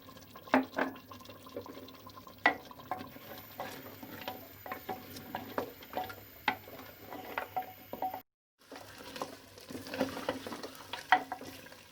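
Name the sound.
mutton frying with yogurt on high heat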